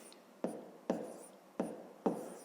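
Decimal numbers being written by hand for a fifth-grade maths exercise, coming through as four sharp pen taps and short scratching strokes on paper, close and fairly evenly spaced.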